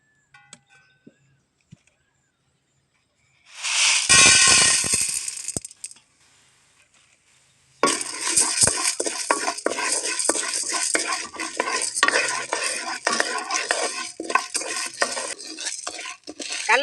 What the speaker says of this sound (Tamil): கடலைப்பருப்பு 100 கிராம் போட்டு வறுத்துக்கலாம்.